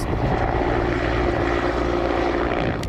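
An Indian Air Force Mi-17V5 military helicopter flies overhead with a steady, loud rotor and engine roar that holds evenly throughout, with no voices.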